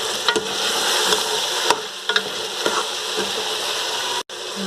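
Garlic and ginger sizzling in hot oil in a pan while cooking: a continuous bright frying hiss with occasional pops and stirring clicks, close up, without talking.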